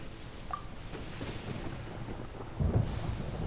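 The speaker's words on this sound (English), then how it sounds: "Paimon hears thunder!" Thunder rumbling in the video game Genshin Impact, a low steady roll under light rain-like hiss that swells into a louder, heavier crack near the end.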